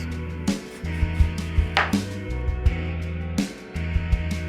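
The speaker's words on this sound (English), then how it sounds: "we're going to cut off the end of the eggplant" A knife cuts the ends off an eggplant on a board, giving a few sharp, close chopping knocks with short scraping slices between them.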